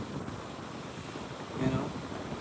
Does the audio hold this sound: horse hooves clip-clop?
no